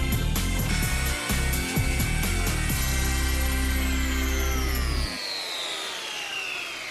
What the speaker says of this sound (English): You may wonder why I'm planing what looks like a beautiful piece of wood already.